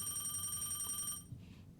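A telephone rings with a steady electronic trill that stops partway through, followed by a faint room tone and a soft clack.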